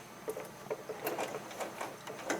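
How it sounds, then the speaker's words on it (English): A home sewing machine edge stitching the straps of a backpack for an 18-inch doll, a soft, rapid mechanical chatter running steadily at close range without speech. "Okay, now we're going to edge stitch the straps."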